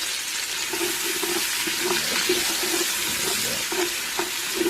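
Chopped peppers and onions sizzle in bacon grease inside an Instant Pot, a steady hiss and crackle holding at an even level throughout with faint scraping touches.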